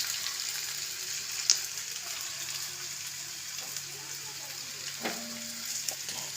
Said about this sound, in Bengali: এবার পুরো চাউটা দিয়ে দিলাম, দিয়ে এবার নাড়তে হবে